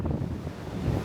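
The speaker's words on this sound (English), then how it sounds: "Kind of windy today." Steady wind buffets the open deck of the Holland America cruise ship Eurodam, a constant low roar rumbling against the microphone throughout with no voices.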